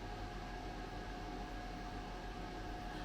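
A Ninja air fryer preheating for lamb leg steaks gives a faint, steady fan whir and airy hiss with no change throughout.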